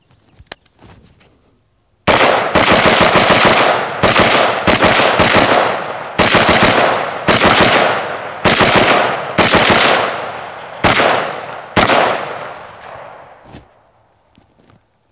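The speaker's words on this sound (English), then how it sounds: "with this Geisley trigger in here, those double taps are just coming out so fast" Rapid double-tap gunfire from an AR-15 rifle with a Geissele trigger, loud close bursts of paired shots in quick succession after a short pause, several volleys ringing out with a fading echo at the end.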